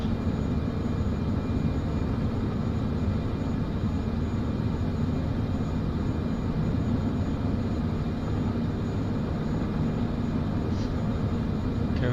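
A Cessna Caravan turboprop idles steadily in Microsoft Flight Simulator 2024, a constant low rumbling drone that stays even and unchanging throughout.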